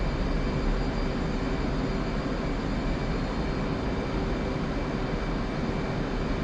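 An F/A-18C Hornet jet cruises in the DCS combat flight game, its engine a steady, loud, dense roar that holds constant for several seconds with no talk over it.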